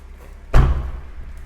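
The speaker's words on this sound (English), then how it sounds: "compare the door closing sound of the Model 3 versus the Model Y" A single solid car door slam from a 2024 Tesla Model 3 Highland, deep and close, with a short dull thud that dies away quickly.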